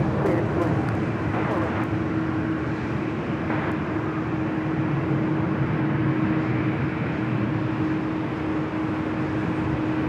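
A Boeing 787 Dreamliner airliner at LAX gives off a steady, fairly distant jet roar with a constant whine running through it, broad and unbroken throughout.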